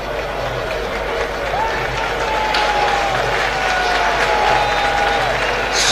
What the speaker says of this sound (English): Some round of applause from the fans for the top scorer with 7 goals.